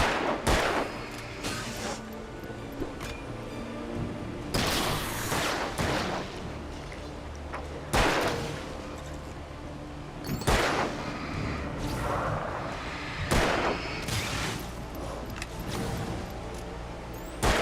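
Repeated gunfire bursts in a video game, loud sharp shots at irregular intervals over a busy action soundtrack with rumbling background.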